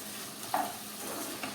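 A chili and tomato curry with salt sizzles steadily in a pan as it is stirred, with a soft scrape partway through over the constant frying hiss, close and fairly quiet with no talking.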